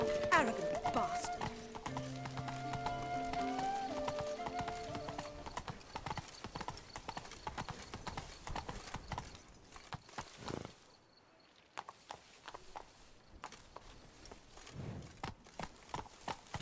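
Horse hooves clip-clop steadily while a rider travels in The Witcher 3: Blood and Wine, under game music at first and then more exposed, with a brief neigh and scattered speech.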